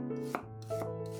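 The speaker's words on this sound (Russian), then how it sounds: "Красный лук разрезаем пополам и нарезаем полукольцами." A knife cuts a halved red onion into half-rings on a board, three crisp strikes in about a second over soft background music.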